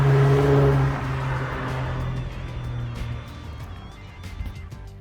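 A car fitted with an X-force straight pipe exhaust gives a loud, deep rev that quickly eases back into a steadier, quieter engine rumble, with no voices over it.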